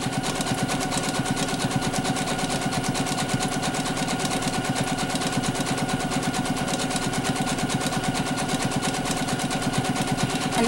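A sewing machine runs continuously while free-motion satin stitching on a regular zigzag setting, making a rapid, even mechanical chatter with a constant rhythm close to the microphone.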